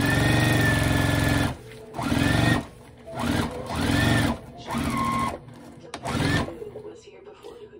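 Sewing machine stitching a car trash bag, with several whirring runs of fast needle clatter broken by short pauses for back stitching, the motor pitch rising and falling, close and fairly loud, with a voice talking in between.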